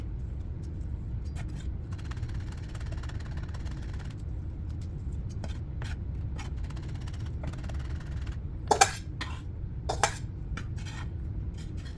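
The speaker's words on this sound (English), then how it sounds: "put them in a bowl, and hit them with a spoon, I guess" Spoon striking chopped chili peppers and garlic in a bowl, a quiet string of dull taps with two sharper clinks near the end, over a steady low background hum.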